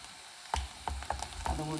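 Asafoetida powder is stirred into a sizzling garlic pickle masala in a Kerala-style pan, with a steady frying hiss and four distinct spoon scrapes spaced under a second apart, close and clear.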